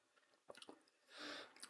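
Someone chews five-year-old gum close to the mic, producing soft wet squishing bites followed by a longer smacking chew, faint and with no talking.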